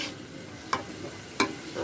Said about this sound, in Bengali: শোল মাছ ভুনা করতেছি।